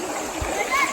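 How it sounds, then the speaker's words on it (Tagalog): Water splashes as a group of people, many of them young, wade across a river late in the afternoon, with one sharp splash standing out above the running water and voices nearby. "Tumatawid dito sa ilog."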